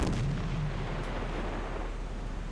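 A submarine deck gun fires in the naval game Silent Hunter IV: one heavy boom right at the start, then a long rumbling decay and distant crackle.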